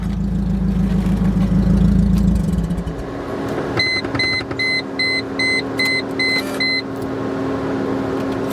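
Mercedes-Benz engine idling steadily while warming up, a low continuous hum close by; a louder rumble fades early on, then a series of electronic beeps chimes above the idle, with no talking.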